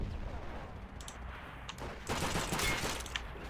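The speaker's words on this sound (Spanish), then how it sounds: "Ups, me están disparando." Gunfire in Call of Duty: World at War, a continuous distant-to-mid fusillade of rattling shots over steady battlefield noise, growing denser and louder toward the end.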